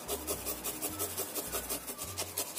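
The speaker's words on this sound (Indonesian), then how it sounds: "Ini bawang merahnya juga aku parut barengan di sini biar tercampur rata." Shallots rubbed across a grater in a home kitchen, close and quiet, a steady rhythm of short rasping scrapes roughly every half second.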